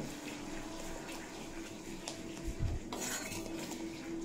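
Spices for potato curry sauté in a pan, a quiet continuous sizzle under repeated metallic scraping and clinking of a spoon against the pan, with no one talking.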